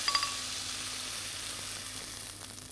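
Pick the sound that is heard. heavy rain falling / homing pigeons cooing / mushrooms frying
mushrooms frying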